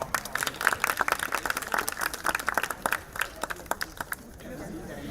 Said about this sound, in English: Let's hear a round of applause for this performance.